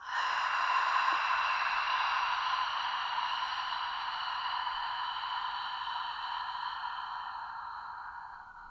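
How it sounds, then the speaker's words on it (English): One long, steady breath pushed out during a breathing exercise, a soft airy hiss that holds evenly for several seconds and slowly fades, close to the microphone, with no talking. "Passive exhale out."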